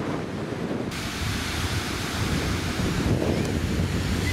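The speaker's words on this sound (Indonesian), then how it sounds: "Anginnya semilir" Ocean surf at Komatsu Beach in Tokushima, Japan, washes in as a continuous, fairly loud roar of breaking waves, with a gentle breeze rumbling on the microphone and no talking.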